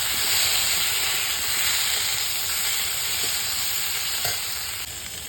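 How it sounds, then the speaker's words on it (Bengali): Vegetables frying in a pan with ground spices in a village home kitchen: a steady, close sizzling hiss with a few faint stirring clicks, no talking. "কিছুটা কিন্তু বাকি রয়েছে, সেগুলো আমি ভেজে নেব এখন।"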